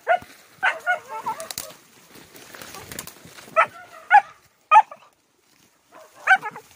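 Small black dog barking in short, sharp yelps during a nighttime hunt, several separate barks spaced irregularly, fairly close, with quiet rustling between.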